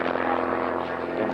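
Aerobatic aircraft engine performing at the Ulster Airshow in Newtownards, a steady, loud, buzzing propeller drone with a strong harmonic hum across the short clip.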